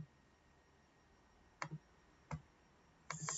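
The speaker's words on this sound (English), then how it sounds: "just click on the file and right click and copy" Four quiet computer mouse clicks on a Windows 10 PC, one single and then a quick pair near the end, crisp and close in a hushed room with no talk.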